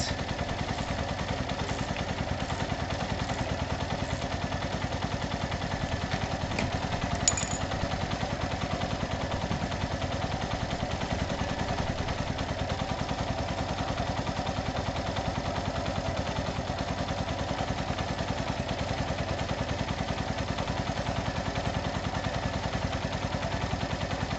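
A Keeway RKV motorcycle engine idles steadily after an oil leak repair, a low, even, faint mechanical chug that runs unbroken and alone without any talk.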